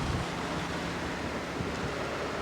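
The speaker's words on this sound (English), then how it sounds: "the wind's blowing me now" Wind blowing outdoors in Arizona: a steady, rushing roar buffeting the microphone, loud and continuous for the whole stretch, with no voices.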